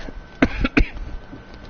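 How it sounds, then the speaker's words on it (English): Three harsh, close coughs in quick succession, loud and chesty, then quieter room sound. "There's that COVID cough."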